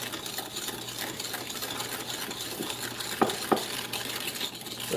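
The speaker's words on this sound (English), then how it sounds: "I still hear sugar grating away in the bottom of there" Sugar grating and scraping against the bottom of a pot of warming heavy cream on the stove, a continuous gritty rasp with two sharp clinks near the end; no talk.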